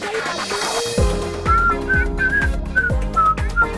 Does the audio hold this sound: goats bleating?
no